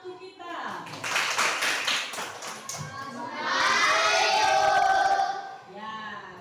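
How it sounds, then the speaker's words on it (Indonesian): Applause from a classroom of students, scattered clapping and excited children's voices that build into a louder burst of cheering before fading out. "Tepuk tangan untuk kita."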